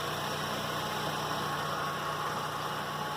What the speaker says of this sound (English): sound that I hear on the road is the axle that is broken, or that is breaking.